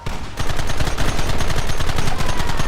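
Dense gunfire erupts in a Red Dead Redemption gunfight, with many overlapping rapid shots crackling close and loud in a continuous barrage.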